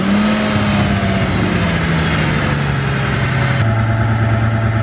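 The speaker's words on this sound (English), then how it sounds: "It was indeed the fuel." A Mercedes S600 V12 idles just after being refueled from a gas can, giving a steady, close, even hum with a slight drift in pitch and no voices.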